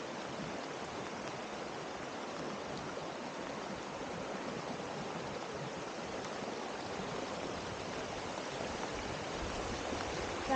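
Rain-swollen creek in flood rushing through an Oregon forest: a continuous, even roar of churning water, moderately loud and steady throughout, with no voices.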